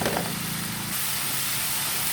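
Tomato and onion sizzle steadily in a hot pan while cooking tomato rice, a continuous broadband frying hiss that brightens and thickens partway through, close and fairly loud with no talking.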